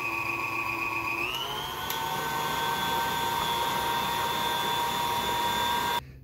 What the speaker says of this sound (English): I like to give them a little bit of whipping up in my mixer here.